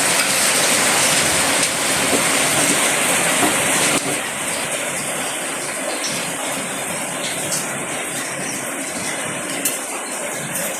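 Fish frying in hot oil on a village stove, a loud, steady broadband hiss and crackle that fills the whole clip, slightly easing after the first few seconds with occasional sharper pops.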